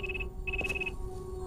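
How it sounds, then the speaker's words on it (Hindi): A telephone rings in an Indian crime-drama scene, giving two short bursts of high electronic trilling separated by a brief pause, moderately loud over a steady low hum, with no talking during the rings. "सर, आपका फोन।"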